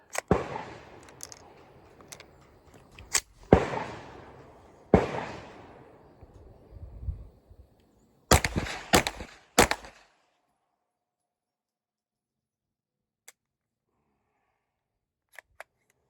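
Gunfire from a neighbouring rifle bay at a shooting range, a scattered series of sharp cracks and clustered bursts with short decays, fairly loud, then a few faint distant shots after a long quiet stretch.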